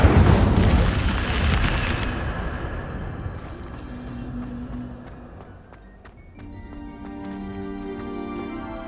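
Incendio fire spell cast in the video game Hogwarts Legacy: a loud burst of roaring, crackling flame at the start that fades into a softer, lingering rumble.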